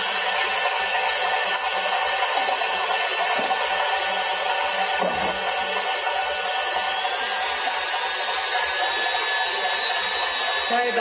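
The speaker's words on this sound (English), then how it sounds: "I've got a whisk attachment here on my mixer." An electric mixer with a whisk attachment whips cream on high, making a steady, loud, broadband whir that runs unbroken from start to finish.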